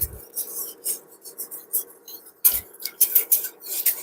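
Bearnaise sauce stirred in a pan, a quiet run of scraping, tapping utensil strokes against the pan in irregular bursts, with a couple of low thumps, close and alone.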